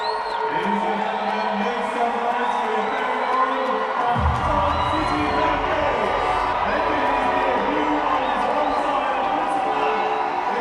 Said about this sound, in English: the crowd will probably start applauding the youngster making his debut